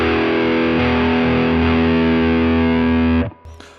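Electric guitar through a Fender Tone Master Pro preset with the expression pedal heel down, one heavily distorted sustained chord held loud and close for about three seconds before being choked off, followed by faint handling noise.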